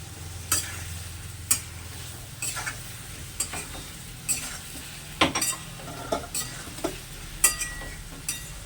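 Spice masala for a prawn and pointed gourd curry stirred and fried on a low-medium flame, a soft continuous sizzle punctuated by regular clinks and scrapes of a spatula against the pan.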